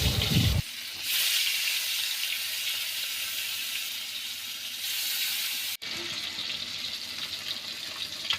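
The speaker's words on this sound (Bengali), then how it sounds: "তো মাছটাকে আমি ভেজে নেব এখন।" Pieces of mrigal fish frying in hot oil in a pan, a continuous close hiss and sizzle that swells and dips, with a sharp break partway through and no voices.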